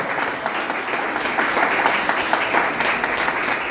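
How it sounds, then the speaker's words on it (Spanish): A church congregation applauds with dense, sustained clapping that holds steady for a few seconds. "Dele ese aplauso a Jesús"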